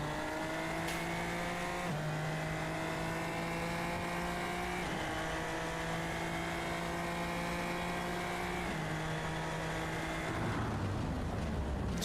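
Super Formula race car engine in a sim racing game, a steady high-pitched open-wheel engine note with stepped upshifts every few seconds, loud and continuous, then slowing near the end.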